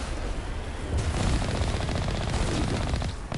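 Rapid automatic gunfire in Mass Effect rattles steadily for a few seconds, growing denser and louder after a brief lead-in of muffled combat noise.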